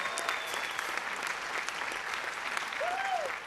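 Sustained applause from a music competition audience, dense steady clapping throughout, with a short whistle near the end.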